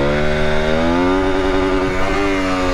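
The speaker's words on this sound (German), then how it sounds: "man versucht einfach den Gang auszudrehen, ja, bis am Begrenzer, kann ich ja auch mal machen" Aprilia SX 125 motorcycle engine held at high revs against the rev limiter, a loud, close, steady buzzing drone whose pitch wavers slightly, with no talk over it.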